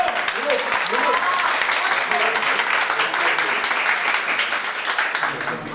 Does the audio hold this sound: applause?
yes